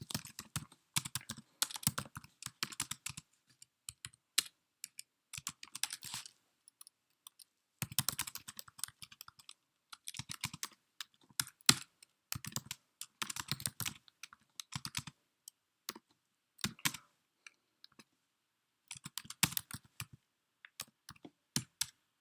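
Code being typed on a computer keyboard, bursts of quick close key clicks separated by short pauses, quiet and steady with no talk.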